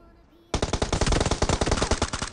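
Rapid automatic gunfire in PUBG Mobile, a dense burst of loud rattling shots that starts abruptly and keeps firing in a fast, unbroken rhythm.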